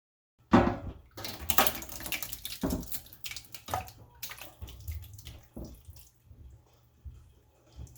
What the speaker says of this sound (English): I'm going to pour this Rappie Pie into my big roasting pan